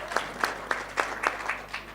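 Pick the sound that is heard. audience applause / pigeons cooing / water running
audience applause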